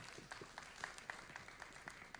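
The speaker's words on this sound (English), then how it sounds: "Let's just give him a round of applause." An audience claps at a church-style gathering, a faint, sparse patter of individual hand claps spread evenly across a short stretch.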